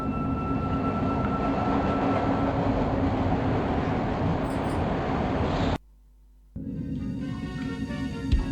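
Subway train rumbling through a metro station in the Broken Sword II video game, a loud steady roar that cuts out abruptly, then resumes briefly with faint clatter.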